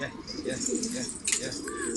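A pigeon coos in short soft notes amid the chatter of people talking nearby, with a few brief higher chirps from other birds mixed in.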